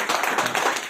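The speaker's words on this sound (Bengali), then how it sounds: "ওনাদের জন্য একবার জোরদার হাততালি হোক।" A brief burst of clapping from a seminar audience at a boot camp in Digha, several quick claps close together over about one second.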